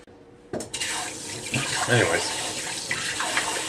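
Tap water running and pouring into a bowl of rice for rinsing in a kitchen sink, a loud close continuous splash that starts abruptly, with a voice speaking briefly over it.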